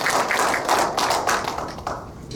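Clapping from a seminar audience greeting a lecturer, a loud close burst of hand claps that thins slightly toward the end.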